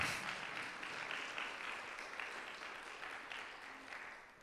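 A congregation applauds during a church service, a steady, faint wash of clapping from many hands that carries on for several seconds and fades slightly at the end.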